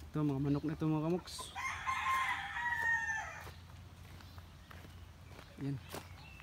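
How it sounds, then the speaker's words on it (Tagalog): Chickens cluck and a rooster crows loudly nearby, with someone talking over the start and scattered footsteps on the ground. "Ito mga manok na ito mga kamoks"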